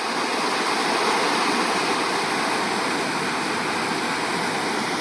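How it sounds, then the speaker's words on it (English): A small waterfall beside a backroad hiking trail roars steadily, a loud constant rushing wash of falling water heard close with no voices. "There's a nice little waterfall up there"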